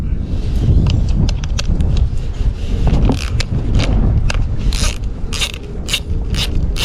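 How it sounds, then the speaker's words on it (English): A 3/8 socket ratchets and scrapes against wheel hardware on a 35-year-old Kyosho Turbo Burns RC buggy, with busy, close, continuous clicking and metallic scraping throughout and no talking. "Take the wheel off. I'm using a 3/8 socket."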